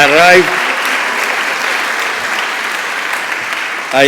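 An audience at a graduation ceremony breaks into loud, sustained applause. A voice is briefly heard over it at the very start and again just before it ends.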